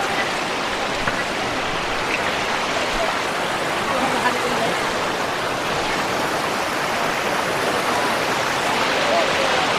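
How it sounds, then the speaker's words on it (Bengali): Water rushes down the waterfall at Sada Pathor in Sylhet, near the India border. It makes a steady, dense roar that stays loud and unbroken from start to finish. "ঝর্ণা থেকে এত জোরে পানি নামে"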